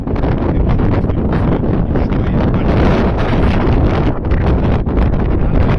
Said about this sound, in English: It's really the wind keeps coming and going.